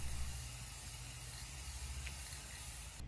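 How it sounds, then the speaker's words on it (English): A spray paint can coats the bottom of a 3D-printed RC boat hull in turquoise, giving a faint, continuous airy hiss that runs steadily and ends abruptly, with a low hum beneath and no talk. "I gave the bottom a spray with this beautiful turquoise color"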